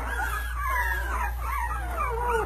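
A young puppy squeaks and whimpers in high, wavering cries, close and fairly soft over a steady low hum, with no talking.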